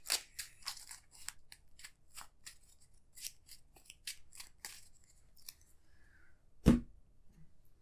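Arkham Horror card game cards shuffled back into a deck, a quick series of crisp riffling snaps and flicks followed by a single sharp thump as the deck is squared.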